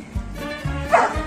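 A dog giving a few short, close barks and yips, three quick bursts in about a second.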